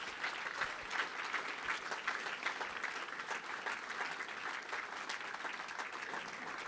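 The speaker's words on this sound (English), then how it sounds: "come on, massive round of applause for the management team." Applause at Southampton Football Club's 2019 player awards as an audience claps for the management team, a dense, steady ovation that carries on throughout without a break.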